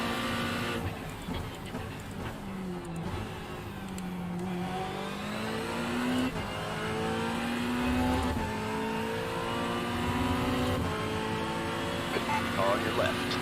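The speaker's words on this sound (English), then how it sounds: "Alright, Tom, there's a faster car approaching." Race cars circuit Hockenheim during an endurance league round, with a steady engine drone whose pitch sweeps up and down as a faster car closes in and passes, loud and continuous throughout.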